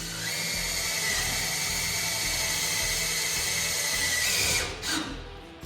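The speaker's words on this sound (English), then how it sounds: "I'm just gonna put a self-tapper in there, hold that in place." A power drill drives a self-tapping screw into a body panel of a chopped 1937 Chevy Master, giving a steady high whine with a squealing edge that holds for about five seconds before cutting off.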